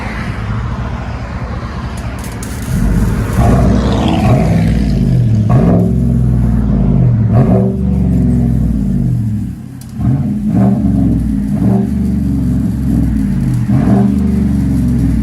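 Chevy Silverado 5.3L V8 with a loud aftermarket exhaust, revving repeatedly up and down in deep, rumbling bursts, close and loud with no talk.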